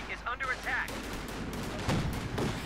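Gunfire tearing into a US rifle squad during a Company of Heroes 2 1v1 match, with rapid bursts of shots over a busy battle din and a caster's voice talking over the start.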